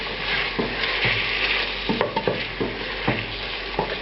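Tonkatsu sauce with rice wine vinegar cooks in a pan with a steady sizzle and repeated spoon-scraping stirs, close and fairly loud, with no voices.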